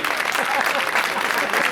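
Spectators at a padel exhibition match in Neuquén clap in a dense, continuous burst of applause, close and fairly loud, with a voice talking over it.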